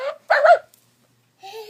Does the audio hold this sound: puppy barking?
yes